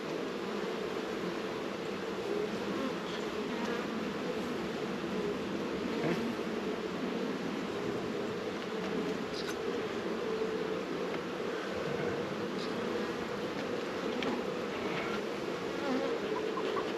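A dense swarm of honeybees drones steadily around an opened hive during a nectar flow, a loud, continuous buzz that stays close and unbroken, with individual bees passing near.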